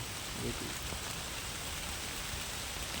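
Rain falls steadily on the ground as a soft, even hiss throughout, fairly faint, with a low murmur underneath.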